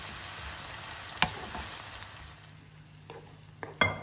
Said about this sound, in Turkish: Soğanlarımızı başka soğanlar kadar kızartmadık.